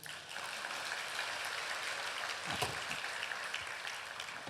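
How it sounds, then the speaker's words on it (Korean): A church congregation applauding during a Sunday sermon, a steady, even wash of many hands clapping at moderate distance, with no voices rising above it. "자, 우리 여자들 위해서 박수 좀 쳐주세요"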